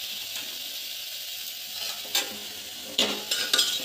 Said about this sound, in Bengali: এবার এটাকে সুন্দর করে নাড়াচাড়া করে নেব।